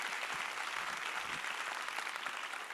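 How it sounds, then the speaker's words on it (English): Audience applause at an innovation conference, a dense, even wash of many hands clapping, heard faintly and steadily throughout without a break. "Another round of applause for YYTO, please."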